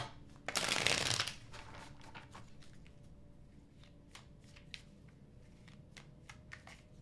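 Tarot cards are riffled in one quick, loud burst, followed by soft scattered taps and shuffling handling noises in a quiet room.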